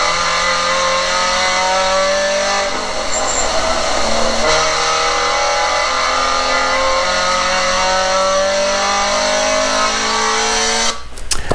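Scion FRS engine pulling hard on a race track, a loud, steady drone climbing in pitch through the gears with brief shift breaks, close and continuous.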